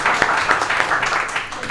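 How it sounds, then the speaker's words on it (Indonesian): Brief enthusiastic clapping from a small casual gathering at a food-and-beverage launch at Maison La Formule, close and lively, with a voice talking over the claps. "Boleh tepuk tangan yang paling meriah."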